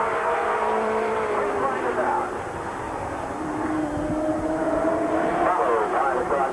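Stock race cars roar together at the start of a dash at Flat Rock Speedway, a loud, rising engine drone across the whole stretch with an announcer talking over it.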